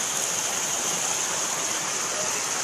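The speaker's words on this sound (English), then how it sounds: "There's waterfalls going." A waterfall pours in a steady, dense hiss of rushing water, loud and continuous with no pauses.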